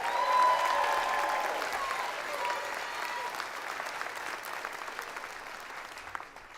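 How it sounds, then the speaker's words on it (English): Sustained applause from a large commencement audience, loudest at the start and gradually tapering off while still dense and continuous throughout. "Let's give him another round of applause."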